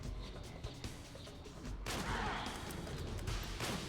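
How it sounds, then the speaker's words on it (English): Enemy gunfire in Metal Gear Solid 4, a faint low rumble of shots that swells into a louder, sustained burst of fire and blasts partway through. "She is firing at me"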